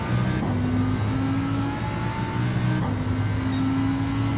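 A race car engine in a Le Mans racing video game holds high steady revs, a loud droning whine with a brief dip and upshift partway through, no voices.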